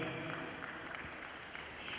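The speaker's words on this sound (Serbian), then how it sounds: "aplauz za Ranka" Applause fills a room at a Montenegro versus Netherlands chess match as a club representative is welcomed, a steady dense wash of clapping from a crowd for about two seconds.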